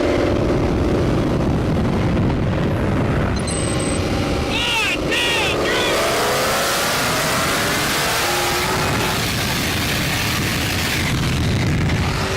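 A powerful twin-turbo car engine roars as it accelerates, revving and rising in pitch, loud and close throughout.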